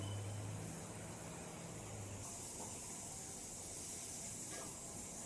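A little oil heating in a hot wok gives off a faint, steady hiss that continues evenly and alone throughout, with no talk.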